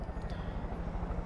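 A helicopter's rotor in the video game Far Cry 5 thumps in a low, steady drone, moderately loud and continuous.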